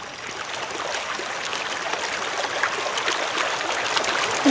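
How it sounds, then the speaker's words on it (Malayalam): Water rushing steadily along a stream, a continuous bright hiss and burble that grows slightly louder, with no voices. "നല്ല രസമുണ്ടല്ലേ ഈ തോട് കാണാൻ?"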